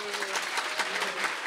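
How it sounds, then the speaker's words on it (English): Short burst of live audience applause for the actors at a podcast playdate event, dense clapping with a faint voice underneath. "I would love for us to give a big circle round of applause for our actors today."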